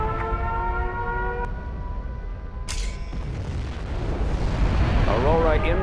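A nuclear missile launch in Command & Conquer Generals Zero Hour: after some brief tonal voice-like sounds, a sudden sharp burst gives way to a loud, deep, rolling roar that swells and continues to the end.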